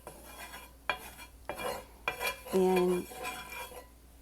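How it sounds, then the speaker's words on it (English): A roux of butter and flour is stirred in a pan, with quiet clinks and scrapes of a utensil coming in short, irregular strokes, and one brief word is spoken. "When you're making a roux, the trick is to stir it a lot."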